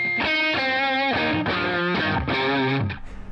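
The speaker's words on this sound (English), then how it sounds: "So just like pinch harmonics," Heavily distorted electric guitar plays metalcore-style sustained notes with squealing pinch harmonics, several loud ringing phrases in a row that cut off to a short decay at the end.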